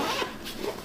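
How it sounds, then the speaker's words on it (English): A zipper drawn shut on a pocket of a travel camera bag, one brief close raspy pull lasting under a second, with no talking. "So zip that up"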